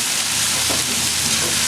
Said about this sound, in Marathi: त्याला पण चांगलं परतून घ्यायचं आहे